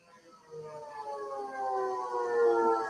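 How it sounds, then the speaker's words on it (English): An outdoor civil defense emergency siren sounds during its routine monthly noon test, a faint, distant wail that climbs steadily in pitch and swells slowly in loudness, with no voices over it. "It's a check of that emergency siren, like the weather, you know, when the sirens start going off."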